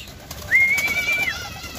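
Racing pigeons at a loft, with a single close, drawn-out call rising and holding for under a second over quiet background noise.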